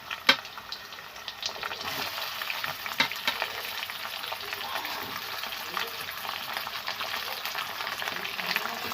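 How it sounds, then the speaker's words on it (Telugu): Goat neck pieces fry in a pan with a constant crackling sizzle, a sharp clatter at the start and occasional stirring scrapes throughout, with no talk. "మొత్తం వేసుకొని అయితే బాగా ఫ్రై చేద్దాం."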